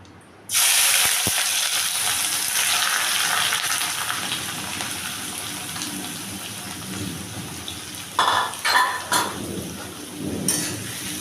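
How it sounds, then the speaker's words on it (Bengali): Onions hit hot oil and fry with a sudden loud hiss that settles into steady sizzling, broken near the end by a few sharp clattering stirs, with no talk. "তো তেলটাও আমার গরম হয়ে গেছে। এখন আমি পেঁয়াজটা ভাজতে দিয়ে দেবো।"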